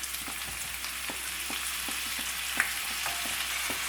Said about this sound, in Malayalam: ഇനി ഇതിലേക്ക് നമുക്ക് ചിക്കൻ ചേർത്ത് കൊടുക്കാം.